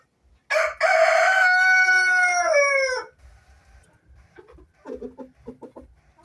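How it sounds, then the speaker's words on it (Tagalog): A breeder rooster on a farm crows loudly and close by, one long drawn-out cock-a-doodle-doo that ends abruptly, followed by softer clucking and bird calls from the flock. "Yan yung rooster natin dito."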